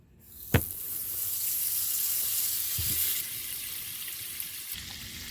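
Butter, one and a half sticks, sizzles steadily in a hot pan as it melts for a lobster-tail sauce, a continuous bright frying hiss with a few soft clicks and knocks, no talking.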